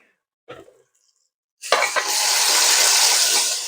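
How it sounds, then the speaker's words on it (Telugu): Onion and chili with ginger garlic paste drop into hot oil after a brief clink, then a loud, steady sizzle of frying goes on close up without any talking. "నెక్స్ట్ ఆనియన్, మిర్చి వేసుకొని బాగా ఫ్రై అయ్యాక అల్లం వెల్లిగడ్డ పేస్ట్ వేసి ఫ్రై చేసుకోవాలి"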